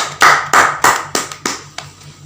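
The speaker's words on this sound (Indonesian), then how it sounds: "Ya, boleh tepuk tangan." A handful of loud, distinct claps at close range, about eight sharp slaps in an uneven rhythm during a casual chat among alumni of an Islamic boarding school, slowing and fading toward the end.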